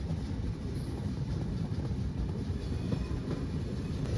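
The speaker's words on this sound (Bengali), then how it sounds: "তো দেখেন ট্রেন স্টেশনে ঢুকতেছে।" The Ruposhi Bangla Express train rumbles and rattles steadily on its tracks entering a station in Gopalganj, Bangladesh, a dense, continuous low roar with no voices.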